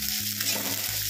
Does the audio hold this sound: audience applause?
no